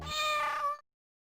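A single close, clear cat meow, drawn out and tonal for most of a second before cutting off into silence.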